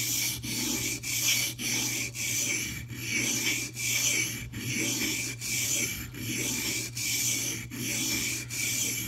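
Mini cleaver blade sharpened on a whetstone in steady, rhythmic back-and-forth strokes, each pass a close, gritty rasp with a brief pause between, about a dozen strokes in a row and no talking.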